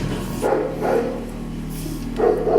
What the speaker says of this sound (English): Hark, the watchdog's bark.